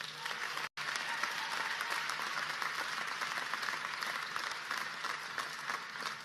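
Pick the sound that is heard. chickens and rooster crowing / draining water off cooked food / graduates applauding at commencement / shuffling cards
graduates applauding at commencement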